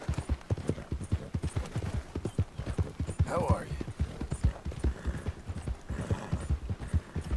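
Horse hooves clip-clop in a quick, steady rhythm in Red Dead Redemption 2, loud and close, while someone talks over the hoofbeats.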